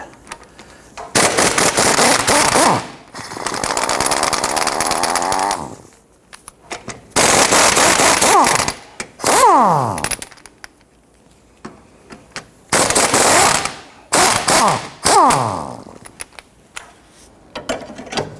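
An impact wrench loosens the ball joint bolts on a 1992-1996 Toyota Camry with a 17mm socket in several loud, rattling bursts lasting a few seconds each, separated by short quiet gaps, up close with no talking.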